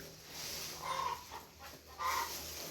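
Chickens cluck in soft bursts at a distance on a rural farm, two short clucking calls over quiet background noise.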